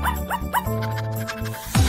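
A puppy gives three quick, high yips in a row, followed by a sustained tonal sound with a low rumble and a final short yelp near the end.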